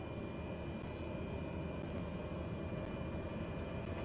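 Simulated turboprop engine of a Black Square Cessna Grand Caravan idling on the ground in a flight simulator, a steady, unbroken drone with a broad rumble and a faint high whine, fairly quiet and alone.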